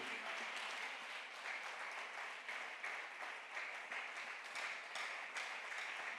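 A church congregation applauds continuously, a dense steady wash of many hands clapping at close range for several seconds, with no voices standing out.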